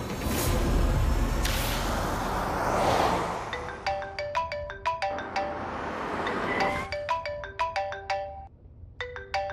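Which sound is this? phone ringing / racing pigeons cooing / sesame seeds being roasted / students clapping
phone ringing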